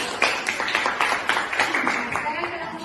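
A classroom of students claps together in quick, uneven bursts, close and fairly loud, for just under three seconds.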